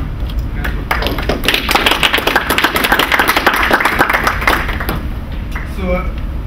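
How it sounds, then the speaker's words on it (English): A conference forum audience bursts into applause for the president and CEO, a dense burst of many hands clapping close and loud, swelling then thinning out near the end. "So when we give him a hand of applause."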